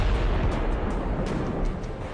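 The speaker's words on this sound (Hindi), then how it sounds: "बम विस्फोट इतना विनाशकारी है कि कंक्रीट और इस्पात की इमारतें पिघल रही हैं।" A deep, continuous rumbling roar from a bomb blast in a fighter jet strike on a military site in Iran, loud and dense throughout with faint crackling bursts on top and no talking.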